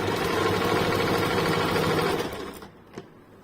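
A sewing machine stitches a lining blouse in a steady, fast whirring run that slows and stops near the end, followed by a single small click.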